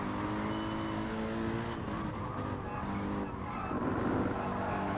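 A Mercedes AMG GT3 race car in Gran Turismo Sport brakes late into a sharp left-hander at the Nürburgring GP circuit, its engine note droning steadily and dipping before a rising, squealing tire sound near the end.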